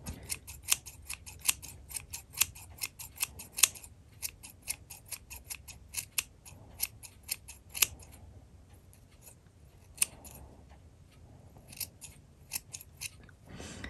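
Scissors snip repeatedly while trimming the yarn of a woolen pom pom for an Easter chick craft, giving quiet, crisp, irregular clicks that come in quick bursts and then thin out.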